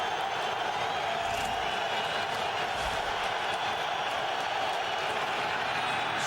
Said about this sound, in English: this crowd's going crazy